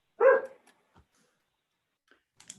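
A single short bark rings out from a dog during a commission meeting, fairly close and fairly loud, followed by a few faint clicks and quiet room noise.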